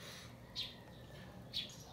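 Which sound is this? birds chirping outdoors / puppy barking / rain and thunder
birds chirping outdoors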